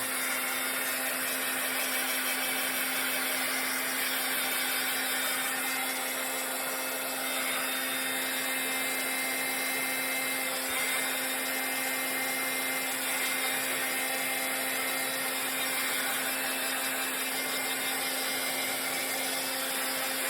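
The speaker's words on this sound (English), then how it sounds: "I call it a hair dryer. My noisy dryer here." A noisy hair dryer runs loud and steady at close range, a continuous whooshing motor whir with a low hum that never changes. No one speaks.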